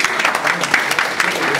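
Brief, lively audience applause at an astronomy day event, a moderate crowd clapping with a loose rhythmic pulse, loud and close.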